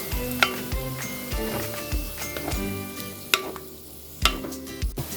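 Blended tomato being stirred into spices in a hot pan for mushroom curry, a loud sizzle with sharp spoon scrapes and knocks against the pan at irregular intervals.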